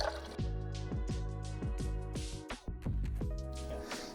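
Water dispenses slowly from a tank in a run of rhythmic glugging drips at close range, about two per second, with a brief break near the end.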